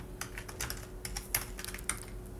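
A computer keyboard is typed on while entering a VBA command in Excel, producing quick, irregular clicks close to the microphone over a quiet room hum, with no speech.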